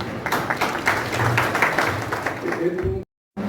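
Applause and clapping for an engineer at a Punjabi peace conference in Ludhiana, a steady patter of many hands filling the hall under a presenter's voice before cutting off abruptly.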